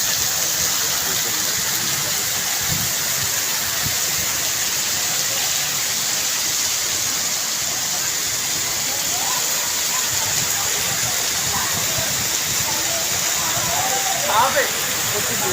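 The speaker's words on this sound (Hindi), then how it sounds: "बहुत तेज़ बारिश, बहुत ही तेज़ बारिश।" Dense, steady wash of heavy rain roaring without pause over a flooded street, a broad hiss filling the whole clip with no talk over it.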